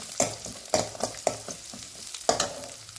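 Onion and garlic frying in hot oil, a close sizzle punctuated by several sharp stirring scrapes at irregular intervals, each followed by a brief burst of crackle.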